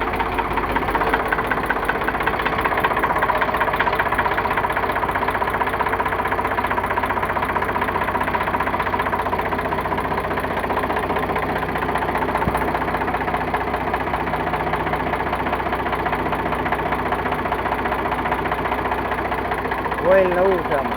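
An Eicher 368 tractor with a diesel Ricardo engine idles after a battery self-start, a loud, steady rumbling chug with a knocking beat that stays even throughout.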